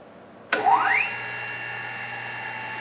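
A machine-shop grinder switches on with a sharp click, its whine rising quickly in pitch and then settling into a steady, smooth, fairly loud hum that runs alone with no talking.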